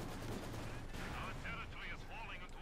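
A 76.2 mm field gun fires in Company of Heroes 2 amid a noisy battle soundscape. Gunfire and explosions are dense and continuous, with a commentator talking over them.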